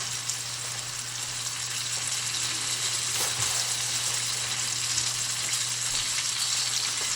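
Butter melting in a pan for a chicken and pineapple casserole, a steady soft sizzle and fry hiss running evenly throughout with a low steady hum beneath, no talking.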